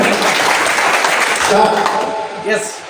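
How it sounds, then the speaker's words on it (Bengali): Audience clapping at a large company gathering for a construction chemicals firm in Cumilla, a steady dense wash of applause that fades slightly toward the end, with voices mixed in. "এটা সবাই সবাই হাততালি দিন"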